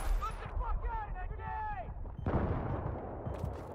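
A grenade blast in a tactical team shooter during an esports match, a broad burst of low rumble and noise following a stretch of gunfire-like cracks, with players talking over it.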